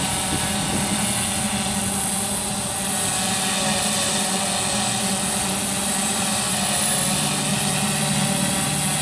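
A DJI S900 multirotor drone flies in wind carrying a 14-pound battery payload, its rotors giving a steady loud whirring hum with a constant pitch throughout.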